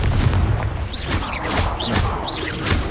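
Explosive fire-spell blasts in the video game Hogwarts Legacy, a run of booming bursts and pops going off in quick succession, loud and alone with no talking.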